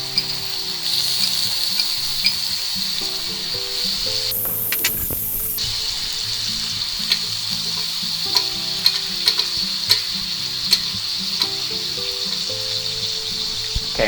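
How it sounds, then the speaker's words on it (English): Garlic cloves and butter sizzle steadily in a pan with a ribeye steak over medium-low heat, a continuous close frying hiss with a brief louder burst partway through and soft music underneath. "We'll go ahead and put 3 cloves of garlic in there. And about 2 tablespoons of butter."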